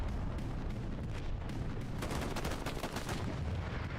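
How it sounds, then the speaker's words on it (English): An artillery round slams down in a Hell Let Loose World War II match, a dense rumbling blast amid steady crackling gunfire, loud and continuous across the whole stretch with no voices. "Arty round landing right in front of him."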